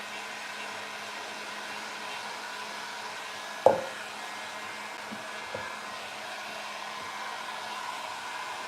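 A hair dryer blows a steady, even hum while drying clay molded onto recycled soup can planters, with one sharp knock partway through and a softer tap later, close and without talk.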